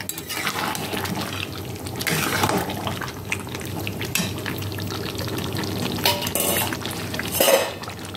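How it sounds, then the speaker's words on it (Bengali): Water is poured into mutton curry cooking in a pan to make gravy, with sizzling, splashing and stirring against the pot and a louder gush near the end, close with no talk. "এবার আমি গ্রেভির জন্য জল দিয়ে দিচ্ছি।"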